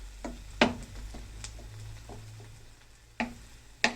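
Food frying in a pan, plantain with onion, being stirred and broken up with a utensil: a few sharp scraping knocks over a low, steady sizzle, close by.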